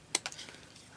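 Scissors cutting through a paper craft tag give two quick, crisp snips close by, followed by faint rustling in a quiet room.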